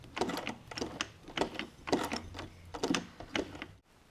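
A 1950s sewing machine, cranked by hand, pushes through six layers of sail canvas with a steady, rhythmic run of mechanical thunks, about two per second, before stopping abruptly.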